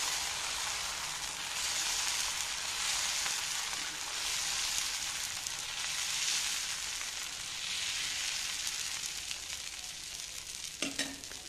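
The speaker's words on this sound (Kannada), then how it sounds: "ಕಬ್ಬಿಣದ ಕವಲಿ ಇಟ್ಕೊಂಡಿದ್ದೀನಿ ಫಸ್ಟ್ ಟೈಮು ಎಣ್ಣೆ ಹಚ್ಚಿ ದೋಸೆ ಮಾಡಿ ತೆಗೆದು ಬಿಡಬೇಕು" A masala dosa fries with oil on an iron tawa, giving a loud, steady, close sizzle that crackles continuously throughout, broken by a brief metallic clank near the end.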